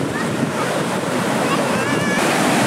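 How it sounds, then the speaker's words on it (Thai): Large ocean waves break and wash up the sand at Nai Thon Beach in Phuket, a loud, close, continuous rush of surf with wind buffeting the microphone. "คลื่นใหญ่มากเลย"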